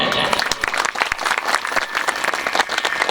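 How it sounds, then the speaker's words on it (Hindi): Crowd applause at a Shiv Puran katha in Naugaja, Umaria district, Madhya Pradesh, with brisk, uneven clapping from many listeners and some voices mixed in. "उनके लिए सभी लोग तालियां बजाएं"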